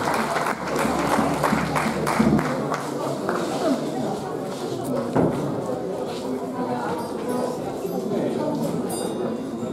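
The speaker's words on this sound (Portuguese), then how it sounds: "Um forte aplauso para eles, sejam bem-vindos a esta tarde de festa e de tradições" Applause from a festival audience for a folk dance group on a wooden stage, a steady spread of clapping running throughout under a man announcing over a loudspeaker.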